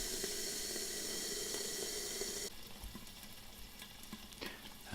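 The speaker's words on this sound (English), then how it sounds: "in goes some water, just enough to give you the steam in which you're going to cook them" Water poured into a hot pan of frying pork gyoza hisses into a loud, steady sizzle of steam, which drops to a quieter crackle halfway through.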